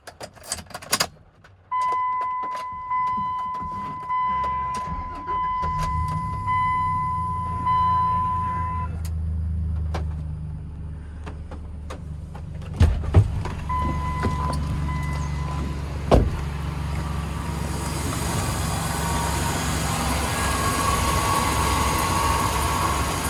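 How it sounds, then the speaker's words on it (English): A warning chime dings steadily, then clicks and a crank bring the V6 engine of a 2001 Dodge Ram pickup with 16,000 miles to life, settling into a smooth, steady idle nearby. "It's a nice little running engine. I'm gonna go start it up, let you hear it."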